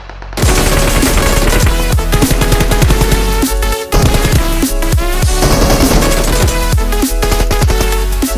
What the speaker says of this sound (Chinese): 前面还有枪声